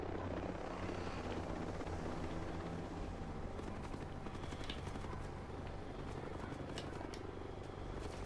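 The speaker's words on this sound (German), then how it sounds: "dass genau in dem Moment so ein blöder Heli vorbeikommt" Military helicopter passing through a Ghost Recon Breakpoint game scene, a steady loud rotor drone filling the whole stretch with scattered sharp cracks like distant gunfire on top.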